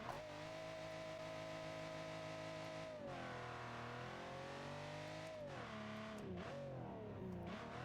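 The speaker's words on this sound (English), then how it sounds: "normal engine noises" Engine of an Italian sports car in the BeamNG driving game revving loud and steady, dropping in pitch around midway then climbing and wavering again near the end, with no talking over it.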